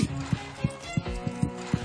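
Steady hoof clip-clops at a walking pace, close and distinct, with a faint background tone.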